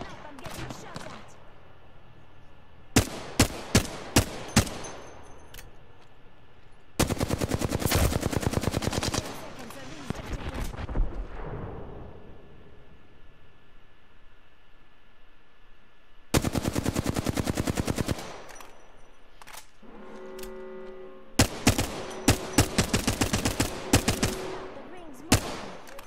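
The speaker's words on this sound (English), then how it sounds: "Listen up, I'm getting shot at." Rapid bursts of gunfire in a battle royale shooter match, automatic volleys and scattered single shots coming in loud clusters with quiet gaps between them, and brief mechanical tones near the end.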